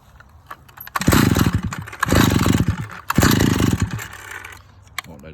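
A repaired Stihl-style 041 chainsaw is pulled over and fires, running in three loud bursts of revving engine separated by brief pauses, then settling to a quieter idle at the end; no speech.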